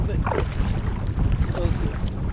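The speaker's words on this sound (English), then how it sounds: "Riding the second wave, so I'm going to just paddle a little harder to get up a little bit" A kayak paddled harder through waves: rushing water and splashing strokes mixed with steady wind buffeting the microphone, close and continuous over a couple of seconds.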